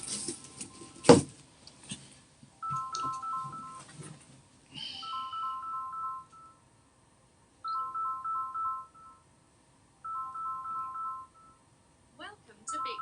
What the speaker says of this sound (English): my phone seems to be ringing